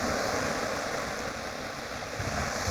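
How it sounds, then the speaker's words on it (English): Sea water washes and flows between rocks on a Far North Queensland beach, a close, continuous rushing surf with breezy noise and no voices. "I'm really loving the way the water is just flowing in between these rocks here"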